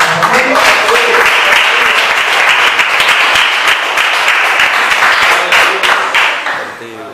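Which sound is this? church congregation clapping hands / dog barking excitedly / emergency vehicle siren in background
church congregation clapping hands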